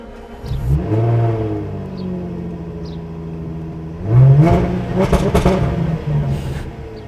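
A luxury car engine revs up loudly twice, the pitch climbing and falling with each press of the throttle, close by.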